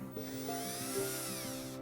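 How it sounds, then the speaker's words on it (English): A sturdy drill bit bores into heavily compacted clay soil in a garden lawn, giving a steady whirring motor hum with repeated rhythmic grinding pulses and no speech. "I'm opting to use this drill bit here, because it's more sturdy"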